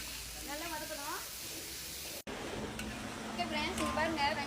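A soft, steady sizzle of chopped onions sautéing in a pan on the stove, heard beneath a person talking in Tamil, with a brief dropout midway.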